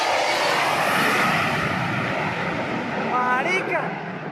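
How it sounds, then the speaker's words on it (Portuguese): An Aerosucre Boeing 727 cargo plane attempting takeoff, its jet engines roaring loud and broad from nearby, then fading slightly as it moves off, with people talking and exclaiming over it. "727 da companhia Aerosucre tentou decolar do aeroporto de German Orlan"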